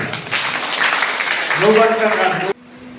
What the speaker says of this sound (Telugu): ఆ వస్తూ ఉండగా చప్పట్లు కొట్టాలి